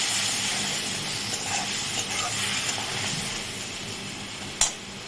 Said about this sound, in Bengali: মশলাটা একটু ভেজে নিই